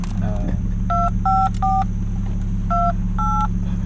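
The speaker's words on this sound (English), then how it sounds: "Does it have a dial tone?" Short electronic car phone keypad tones beep several times over a steady low engine hum inside a 1995 BMW E36 325i, with people talking quietly underneath.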